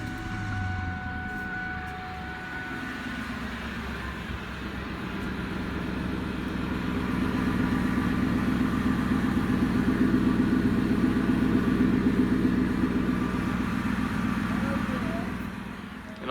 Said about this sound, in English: here's the car starting again